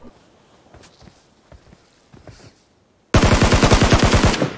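Gunfire in the PUBG Mobile video game: a few soft footsteps and light thuds, then a sudden loud burst of rapid automatic shots in a fast, even rhythm, close and dominant.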